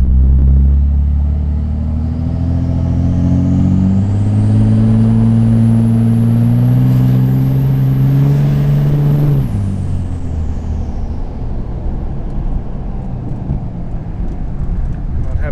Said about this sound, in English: Say that old turbo sure gets loud with this S&B intake